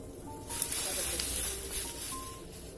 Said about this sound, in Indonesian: air sudah mendidih, kita masukkan sapinya ya.